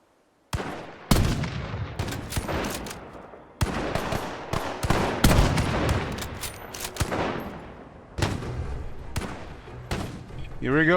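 Repeated gunshots ring out in a ruined-world shooter game without a silencer, loud sharp cracks in uneven bursts and single shots across the whole stretch, some close and rapid.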